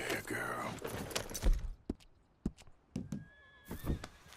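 A horse in Red Dead Redemption II gives a loud, close whinny with a falling shaky pitch, followed by hoof clops and scattered footsteps and thuds in a quieter outdoor scene.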